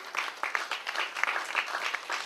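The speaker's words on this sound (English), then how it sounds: "how about a nice round of applause for all the good people who labored long and hard to put this thing together today" Clapping from a crowd at an annual Labor Day picnic, a moderate burst of applause with individual claps audible, steady for a couple of seconds.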